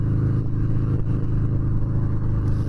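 A 2019 Harley-Davidson Fat Bob 114 motorcycle being ridden gives a steady, deep engine rumble with a throbbing low pulse, heard alone and continuously at close range.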